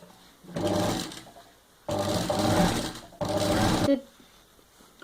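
Sewing machine stitching a cloth diaper bag, running in three steady bursts of several seconds each with short pauses between, close and fairly loud with a faint background hum.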